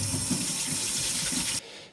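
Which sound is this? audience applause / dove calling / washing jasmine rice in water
washing jasmine rice in water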